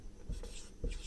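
Chalk or marker writing on a board in a class 10 physics lesson, two short quiet scratchy strokes about half a second apart.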